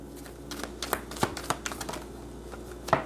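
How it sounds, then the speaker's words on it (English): Tarot cards are shuffled by hand at close range, a series of quiet irregular riffles and soft snaps with slight paper crinkle, no talking. "I'm going to keep shuffling"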